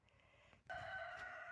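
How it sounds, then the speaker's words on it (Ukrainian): A rooster crows faintly in the distance, one drawn-out call rising over soft background clucking and farmyard murmur. "Цього красавця гонить той великий півень старий."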